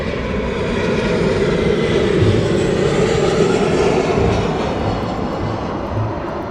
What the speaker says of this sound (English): RYANAIR coming in.